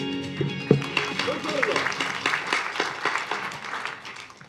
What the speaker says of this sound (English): Please welcome with our applause.